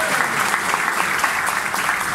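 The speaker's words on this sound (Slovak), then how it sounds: "Molim veliki aplauz." Wedding guests applauding at a celebration in Podgorica, a dense loud burst of clapping from a crowd that fills the whole moment without pause.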